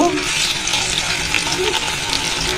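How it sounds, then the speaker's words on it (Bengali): Chicken pieces for biryani drop into hot oil in a pan, giving a steady, close sizzling hiss that fills the short moment. "এখানে আমি পাত্রে তেল দিয়েছি তেলটা গরম হয়ে এসেছে এবার যাই মাংসটা দিয়ে দিব"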